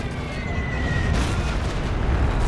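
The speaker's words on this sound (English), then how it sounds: "that was a big Stuka dive bomb and 2 units down to that" A Stuka dive bomb strikes in a Company of Heroes 2 match, a loud, sustained rumbling blast with a rising whine over it that fills the whole moment.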